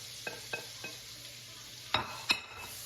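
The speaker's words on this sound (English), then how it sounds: "you see the butter has melted, so I'm gonna go ahead and add my onions" Onions sizzle in melted butter in a pan, a low steady frying hiss broken by several light clinks of a utensil against the pan, quiet and close, with no talking.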